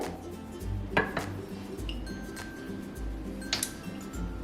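A spoon stirs cumin powder and spices into yogurt in a bowl, with a few faint clinks and taps against the dish and soft scraping, quiet and close, with no one talking.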